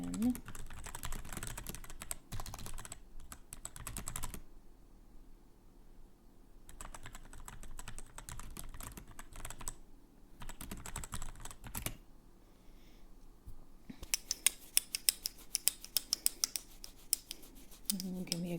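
Clicky bursts of typing on a mechanical keyboard, close and soft, come in short runs separated by quiet pauses, with a faster, sharper flurry of keystrokes near the end.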